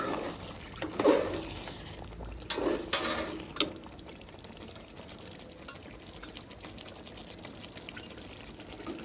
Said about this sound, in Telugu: కొంచెం వాటర్ వేసుకుందామండి